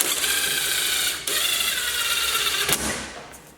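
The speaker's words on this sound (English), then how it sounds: "I'll throw a wheel nut on quickly" A wheel nut spun onto a brake hub while fitting a StopTech brake kit, a steady dense mechanical whirring with a brief break partway through, close and loud.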